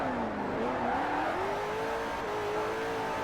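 Koenigsegg CCX mid-engine supercar revving in Forza 4, its engine note rising and falling steadily through the whole stretch, loud and close with no talk.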